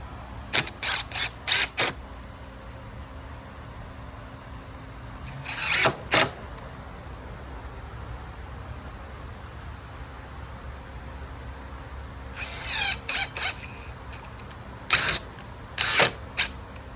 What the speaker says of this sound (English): We're gonna go ahead and screw that in.